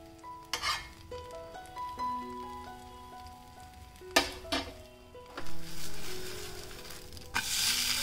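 Oats chilla frying in a few drops of oil on a pan, with a steady sizzle under sharp clinks and knocks as it is flipped, ending in a louder hiss.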